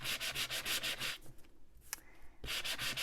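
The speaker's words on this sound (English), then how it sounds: "We want to rough up our hat just like we did the other one with the sandpaper." Sandpaper rubbed briskly over a paper hat in a card-making craft, close and quiet rhythmic scratchy strokes in two runs separated by a brief pause.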